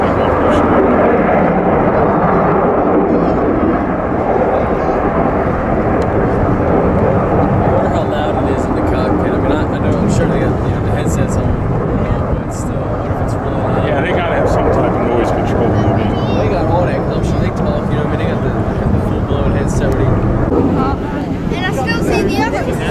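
A Blue Angels jet passes at a Baltimore air show, a loud, steady roar mixed with strong wind buffeting, while spectators talk throughout.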